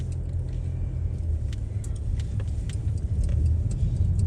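A car rolls along a small-town road in Mulberry, Florida, a steady low engine and tire rumble heard from inside the vehicle, with faint rattles and no talking.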